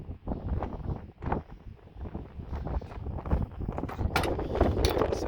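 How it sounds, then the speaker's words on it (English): Gusty wind buffets the microphone outdoors beside a 1950 GMC pickup truck, a rough low rumble that swells and dips throughout with bursts of noisy roar. "Sorry about the wind."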